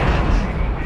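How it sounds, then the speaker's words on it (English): Explosions and blasts in the video game Syphon Filter: The Omega Strain, a dense, continuous rumble of booming detonations and gunfire-like bursts, loud and close, with no clear gaps. "What keeps exploding? Everything!"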